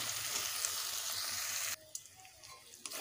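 Egg curry masala with turmeric, salt and green chillies fries in hot oil in a pan. A loud, steady sizzle gives way partway through to a quieter simmer with occasional scraping stirs, close up and without talk.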